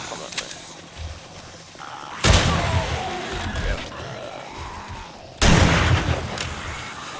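Two loud, close shotgun blasts roughly three seconds apart ring out in the zombie survival game 7 Days To Die, each with a long decaying tail, over low background game ambience.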